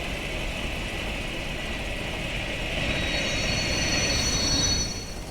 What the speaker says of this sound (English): Nice brake squeal